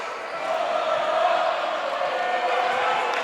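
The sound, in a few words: high school basketball crowd making noise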